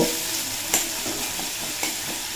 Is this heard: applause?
no